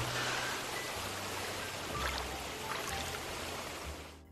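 A river stream flows steadily beside a crossing point in a film scene, a soft continuous trickle and wash with faint splashy detail, low and even throughout before fading at the end.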